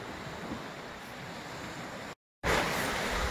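Sea surf washes onto a beach at Vityazevo in a steady broadband rush, cut by a brief silent gap before the wash resumes louder and closer.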